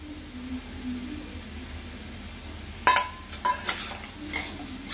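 Ginger paste and spices soaked in water tipped into a hot pan, giving a soft sizzle with a few sharp clinks and stirring scrapes near the end over a low steady hiss.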